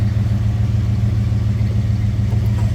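A 1972 Oldsmobile Cutlass Supreme convertible out on a drive, heard from inside the cabin as a loud, steady low engine drone with road rumble and no talk.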